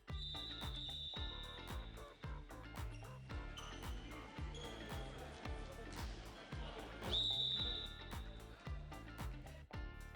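A handball referee's whistle shrieks twice, each blast sharp and piercing, over a steady rhythmic music bed with a voice talking.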